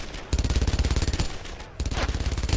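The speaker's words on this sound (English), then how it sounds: "the machine gun is really interested with me" Rapid bursts of machine gun fire from a World War II shooter game, loud and continuous, with a short gap before the rattling resumes.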